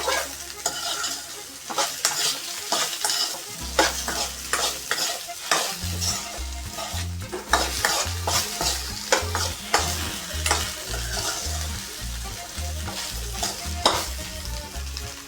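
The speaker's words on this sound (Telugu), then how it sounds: "గ్యాస్ అయితే ఫుల్గా పెట్టుకొని ఒక మూడు నిమి ఒక ఐదు నిమిషాలు బాగా ఫ్రై చేసుకోవాలి" Okra frying in a kadai over a full gas flame, loud continuous sizzle with rhythmic stirring and scraping close up throughout, no voices.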